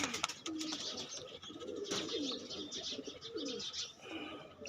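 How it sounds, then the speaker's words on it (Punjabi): A pigeon held in a hand coos softly in low, rolling calls, with faint chirps and rustling nearby and a steady background hum throughout. "ਤੁਹਾਨੂੰ ਹੱਥ ਦੇ ਵਿੱਚ ਕਬੂਤਰ ਨੂੰ ਫੜ ਕੇ ਦਿਖਾਉਨੇ ਆ"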